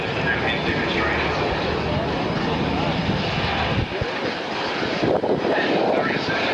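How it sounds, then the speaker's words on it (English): Royal Air Force Nimrod aircraft taking off at the Avalon airshow, a loud sustained jet engine roar filling the field from a distance, with an announcer talking over it. "we will see the takeoff of the Royal Air Force Nimrod and submarine aircraft from the far left of the field"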